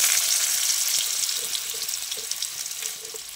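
Potatoes fry in hot white cooking oil with a loud, dense crackling sizzle, a steady bright hiss with small pops and faint utensil taps, no speech.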